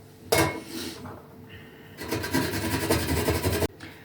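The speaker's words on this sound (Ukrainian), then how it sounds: "і натремо цибулю з чесником" Onion and garlic are grated finely on a hand grater for chicken cutlets. Close, rhythmic rasping strokes come in two bursts with a short pause between them, then stop abruptly.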